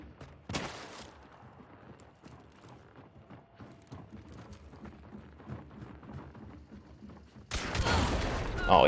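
A shotgun fires in a first-person hunting shooter game. One loud, sharp blast comes early, and a heavy burst of noise comes at the end. In between, quieter game sounds of footsteps and rustling fill the gap.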